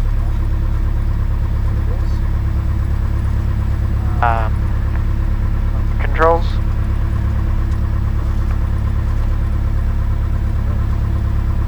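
A Cessna 172 engine runs up with a loud, steady, low droning hum throughout, while a voice speaks briefly over it and two short chirping tones cut in.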